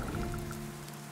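Rain falls steadily in the video game Dead In Vinland, a soft, faint patter of drops with a low game tone humming beneath.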